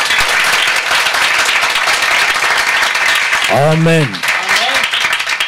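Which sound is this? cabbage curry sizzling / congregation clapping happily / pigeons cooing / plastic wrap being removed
congregation clapping happily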